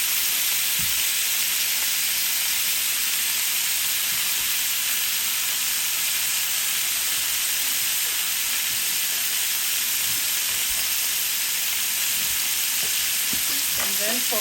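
Butter sizzles steadily in a hot pan with filet mignon and olive oil, a continuous bright crackle running the whole time without talk, with a few small pops and spatters near the end.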